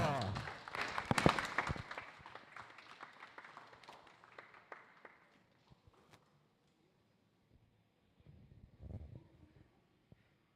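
An audience at the Teleios Dome in Australia claps for a round winner, a dense burst of applause at the start that thins out over several seconds, with a brief second flurry near the end.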